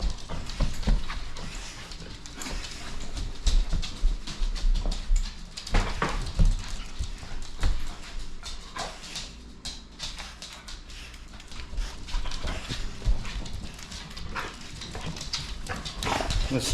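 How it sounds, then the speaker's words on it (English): Several dogs move about indoors, with scattered clicking pawsteps and scuffles, irregular and close by, coming in uneven bursts over a quiet background. "Oh, good dog, good dog, good dog."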